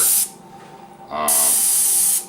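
Airbrush spraying Rust-Oleum flat black oil-base paint onto fabric, two loud bursts of steady close hissing with a brief quieter gap between them.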